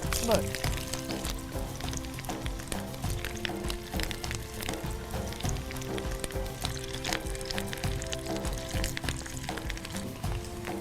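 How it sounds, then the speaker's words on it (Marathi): Flower paneer tikkis sizzle in hot oil, a continuous crackling fry with scattered pops running beneath a steady hum, heard close and fairly quiet throughout. "मस्त पैकी गरमागरम टिक्की फ्राय होत आहेत"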